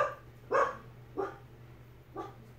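A dog named Siler barks at a man parked outside, three sharp, separate barks about half a second apart, moderately close, over a low steady hum.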